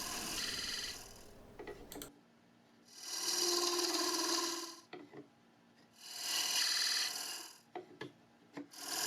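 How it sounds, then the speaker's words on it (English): Wooden bottom panel for a button box being turned on a lathe, two sustained bursts of cutting noise of about two seconds each, close and moderately loud, with quieter gaps and small knocks between them. "I do this by turning away a little bit at a time, test fitting it, and then turning away a little bit more"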